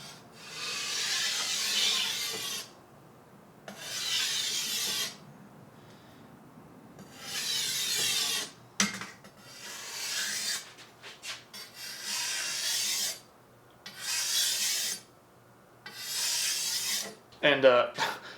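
A katana blade rubs against a whetstone in repeated long rasping strokes, each lasting about two seconds with short gaps between, close and moderately loud, with no talk.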